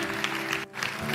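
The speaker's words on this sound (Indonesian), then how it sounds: "Yang diberkati berikan tepuk tangan lebih meriah lagi." Audience applause at a church teen worship service, a steady wash of clapping that briefly dips midway and then resumes, with no voices over it.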